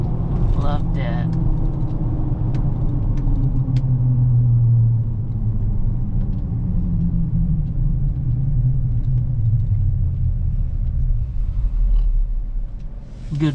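A lifted 2018 Chevy Silverado Z71 1500 pickup truck accelerates with a deep, rumbling engine roar that swells and then settles, heard from inside the cab under steady road noise.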